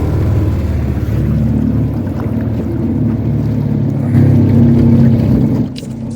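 A motorboat engine on a lake runs with a loud, steady low drone, close by. Wind buffets the microphone throughout, and the engine grows slightly louder near the end before easing off.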